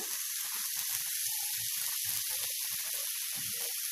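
Spicy bread toast stuffing frying in a pan over a medium flame, giving a steady, soft sizzling hiss with faint crackles throughout.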